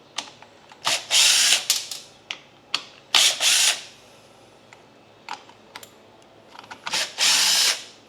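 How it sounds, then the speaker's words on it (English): A power drill backs four screws out of a cover on equipment being checked for a no-spark electrical fault, in several short loud whirring bursts with ratcheting clicks between them, close by and without speech. "I'm going to go ahead and take these screws out all the way, these four"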